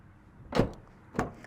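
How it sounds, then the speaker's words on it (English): Door of a third-generation Toyota RAV4 V6 closing, two short thuds about half a second apart with a slightly thin, tinny quality, close by. "the way how the door sounds when you close it sounds a little bit tinny"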